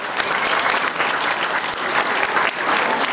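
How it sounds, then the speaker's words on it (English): An outdoor crowd at a mounted police open day claps loudly and continuously for riders after a drill display, a dense, even burst of applause. "give them another clap, they've done well."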